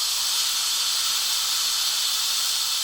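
Steam blasts from a WMF pressure cooker as it releases pressure, a loud, continuous, sharp hiss that holds steady and close throughout without a break.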